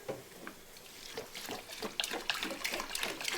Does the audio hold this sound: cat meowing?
no